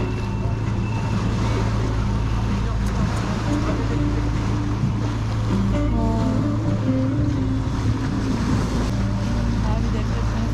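Sea waves slapping around a tour boat off Antalya, mixed with a steady engine drone and wind noise, continuous and close throughout.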